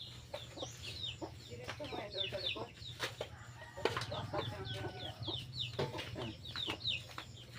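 Five young chicks about a month and a half old peep and cheep in quick, high bursts, with a steady low hum running underneath.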